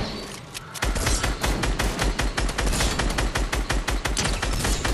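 Rapid automatic gunfire in Fortnite, a dense, loud, close volley of shots firing in quick succession after a brief quieter start, with no talking over it.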